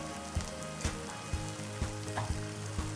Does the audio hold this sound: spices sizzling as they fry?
yes